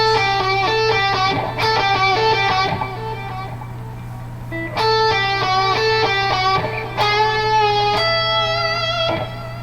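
Electric guitar playing quick pull-off phrases, with clear sustained lead notes in two bursts around a short pause, over a steady low hum.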